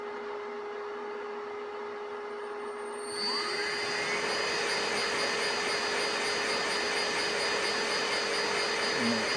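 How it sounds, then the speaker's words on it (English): An inverter-driven electric motor starts from a steady hum and jumps up to speed within a second or so, rising tones settling into a loud continuous whine with whirring noise, alone and close. "the motor does just jump up to speed"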